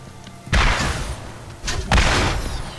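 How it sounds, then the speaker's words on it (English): Two heavy booming rocket launcher blasts in Borderlands, each a sharp loud thump with a rumbling tail, the second about a second and a half after the first. "I'll just bring out the rockets."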